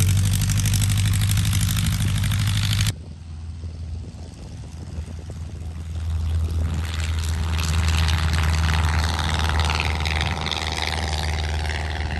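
An RV's engine runs steadily as the vehicle maneuvers out of a driveway docking spot. A loud, low rumble continues throughout, with a sharp drop in level about three seconds in before it swells again.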